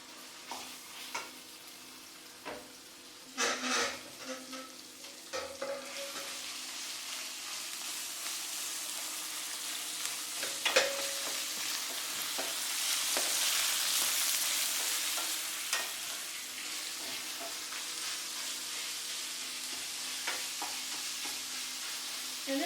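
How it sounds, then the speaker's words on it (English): Minced beef sizzles softly in a pan for a mince meat curry, a continuous gentle frying hiss broken by occasional scraping clatters of a utensil stirring the meat. "And then we can add in our minced meat."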